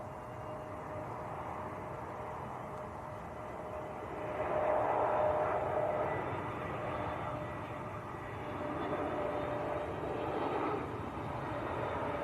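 An EasyJet Airbus A320neo in from Turin arrives at Manchester Airport with a moderate, distant jet rumble and a faint whine. The sound swells slightly midway, then settles, with no talking.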